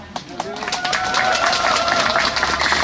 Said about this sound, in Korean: 엄태영 국회의원께도 큰 박수 환호성 보내십시오